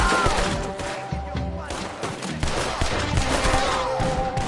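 Rapid bursts of video game gunfire crackle loud and close in a dense, continuous fusillade, with voices mixed in.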